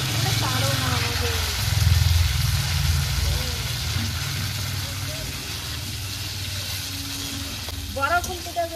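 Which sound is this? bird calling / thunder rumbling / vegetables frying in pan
vegetables frying in pan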